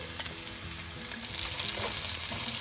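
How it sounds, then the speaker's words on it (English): Garlic sizzling in hot oil in a wok, a steady close frying hiss with soft crackles that swells slightly toward the end, no voices. "Once the oil is hot enough, add in your garlic."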